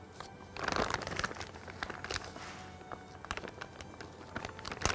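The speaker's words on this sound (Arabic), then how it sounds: "هنحطه في كيس حلواني." A plastic piping bag crinkling and rustling steadily as chocolate frosting for a chocolate mayonnaise cake is spooned into it, close and continuous with scattered crunchy bursts and no talking.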